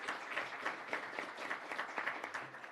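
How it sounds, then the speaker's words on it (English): Applause in a House Health Subcommittee hearing room welcoming Dr. Katrina Green, an ER physician from Nashville; a modest, fairly quiet patter of hands from a small group, steady throughout with no voices over it. "let's give Dr. Green a round of applause and welcome"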